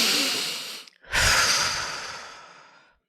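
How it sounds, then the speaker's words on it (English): A person draws a long, deep breath in through the nose, then lets it out slowly after a brief pause, close and clear with no talking. "deep breath in through your nose"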